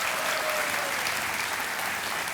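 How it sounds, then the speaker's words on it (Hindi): A television quiz show studio audience breaks into dense, sustained applause, loud and continuous throughout with no pauses. "ताली बज जाए"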